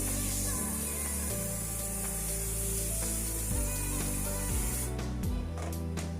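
Mega tire cleaner and protectant sprayed onto a dirty tire: a continuous loud close hiss, ending in a few short bursts.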